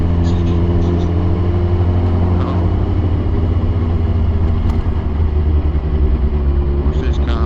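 Cars and motorbikes rumble past on a road near the Humber Bridge during a bike ride, a steady loud engine drone and wind rush with people talking over it.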